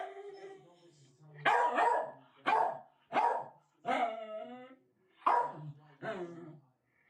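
A beagle guarding a bathroom door lets out a series of about seven loud, drawn-out bays and barks, each separated by a short pause, close and clear with no talk.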